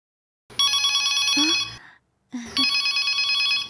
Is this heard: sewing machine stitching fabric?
no